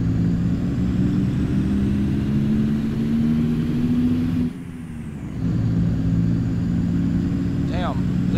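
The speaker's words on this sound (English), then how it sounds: "Damn, this truck sounds good." Heavy truck engine in the American Truck Simulator driving game, a steady low droning rumble that holds, briefly drops away midway, then returns, with a short rising chirp near the end.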